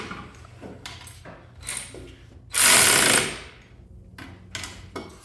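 A ratchet works bolts tight on a GR Corolla in a garage, with short clicking bursts spread across the moment and one louder, longer burst of mechanical noise near the middle, close and otherwise quiet.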